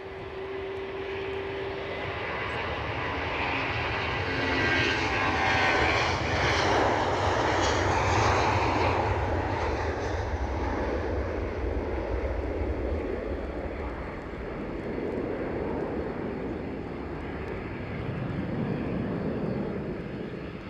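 A Delta jet departs Edinburgh Airport bound for Atlanta, its engine roar building loud and broadband, peaking mid-pass and then easing into a steady distant rumble as it climbs away.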